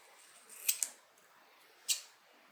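Scissors cutting out a fabric thumb lock piece for a crossbody bag, two quick close snips followed by a third after a short pause, crisp and soft in a quiet room.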